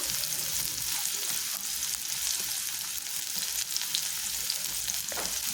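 Finely chopped onion fries in hot sunflower oil in a pan, producing a dense, steady, close sizzle with only occasional faint utensil touches and no voices.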